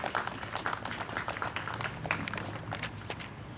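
An audience at a French remembrance ceremony applauds a new fire station lieutenant, producing steady, moderately loud clapping that runs throughout before thinning toward the end.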